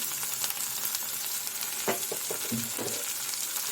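Ginger, green chilies and curry leaves with tomato fry in hot oil for poha, giving a steady soft sizzle with a few scraping stirs near the end, fairly quiet and close.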